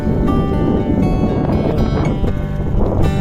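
Strong wind buffeting the microphone in a constant rumbling roar, with faint outdoor sounds mixed in, near a beach in Doha, Qatar.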